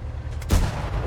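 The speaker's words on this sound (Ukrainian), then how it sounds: "Дивись, на чудово постріл зараз буде." A single heavy tank cannon shot from an RU 251 light tank in a video game, one sharp booming blast with a deep low rumble and a short decaying tail, heard alone.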